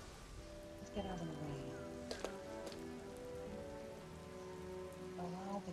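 Steady rain patters throughout a flying video game in a calm Halloween-themed level, running as a constant wash under harmonic in-game music tones, with a few brief brighter ticks.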